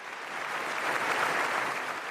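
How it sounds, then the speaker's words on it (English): Congressional audience applauding during a presidential State of the Union address, a dense sustained wash of many hands clapping at once, steady and fairly loud throughout without voices. "the Republicans all applauded him on it"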